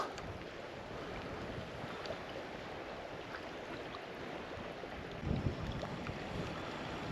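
Steady wind blows and rumbles against the microphone on the Dniester River bank under overcast sky, fairly faint, with one brief stronger gust.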